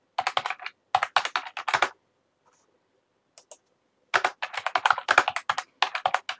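Close, crisp typing on a computer keyboard comes in quick bursts of separate key clicks, pausing for about two seconds with one or two stray taps before a longer run of keystrokes.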